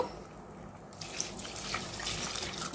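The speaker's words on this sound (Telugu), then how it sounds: "ఇందులోకి వాటర్ అనేది పోసుకుందామండి" Water pours steadily into a pressure cooker holding rice and chicken for dum biryani, a continuous close splashing stream that grows fuller and brighter after the first second, with no talking.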